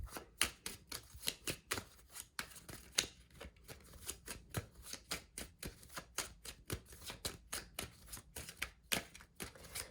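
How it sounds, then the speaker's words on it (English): Rapid, crisp shuffling of tarot-style cards with a steady stream of riffling clicks and flutters, close and fairly loud, with no voices. "I'm to start reading it while I'm shuffling."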